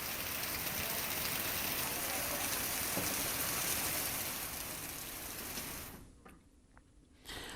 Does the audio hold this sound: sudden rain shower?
yes